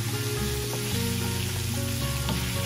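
Pieces of pork sizzle steadily in a pan with a little oil, a close, continuous frying hiss with faint crackles and a low hum beneath, no voices.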